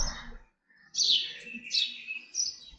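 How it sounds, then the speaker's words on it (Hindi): A long-tailed bird calls outdoors near a house, three bright rising chirps spaced about half a second apart, fairly close and clear over quiet background. "वो ना एक चिड़िया है जो मैंने आप लोगों को दिखाया था, टेल वाली चिड़िया है"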